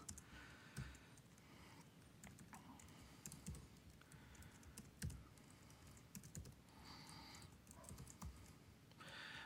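Rapid, steady typing on a computer keyboard during a live coding demo of AWS Lambda, a quiet continuous patter of key clicks with brief pauses.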